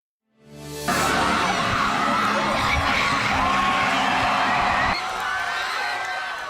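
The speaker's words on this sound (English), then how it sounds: "the crowd goes wild as Bills QB1 makes his entrance to tonight's blue and red scrimmage" Large crowd roaring and cheering at Highmark Stadium as the Bills quarterback enters a blue and red scrimmage, a steady loud wall of crowd noise that swells in and holds.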